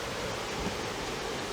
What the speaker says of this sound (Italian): Ecco una cascata.